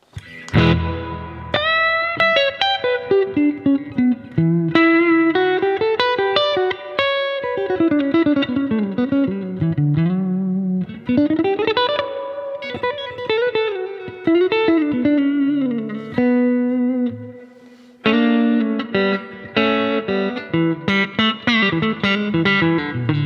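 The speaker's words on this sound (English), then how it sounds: "Let's see what the reverb does." Marshall DSL5CR tube guitar amp with its reverb turned up, a distorted electric guitar playing continuous melodic lines and chords whose notes ring out and wash into a reverberant tail, loud and steady throughout.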